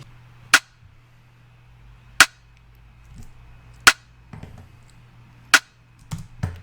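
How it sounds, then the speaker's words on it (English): A rim shot in a programmed beat sounds as sharp, dry cracks, four of them evenly spaced about every 1.6 seconds over a low steady hum, followed by a few softer clicks near the end. "So first thing was a rim shot."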